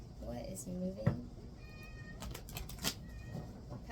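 A house cat meows loudly several times in short, drawn-out calls, close by and mixed with someone talking over it in a quiet room.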